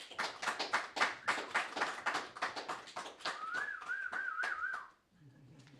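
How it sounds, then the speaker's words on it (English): A conference audience applauds a student speaker, with dense rhythmic clapping that fills the room for about five seconds, then fades to quieter background sounds. "I'd like everyone to give a big round of applause for Andrew MacDonald"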